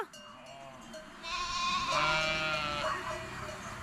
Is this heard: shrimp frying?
no